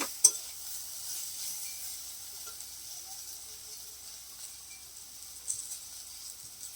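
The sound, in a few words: spice paste with chili powder frying and stirred in pan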